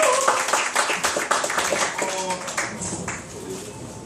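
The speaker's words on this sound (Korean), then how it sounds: "저희 강사님들께 박수 한번 주시죠" An audience at a book lecture event applauds the lecturers. The clapping is busy and crackling, stays fairly close, and gradually thins out, with some voices underneath.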